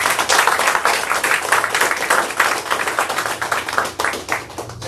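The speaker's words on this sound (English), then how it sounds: "can we please give him a round of applause?" A round of applause from a small crowd at a Saturday gathering, close and loud, with individual claps distinguishable in an uneven rapid patter that continues throughout.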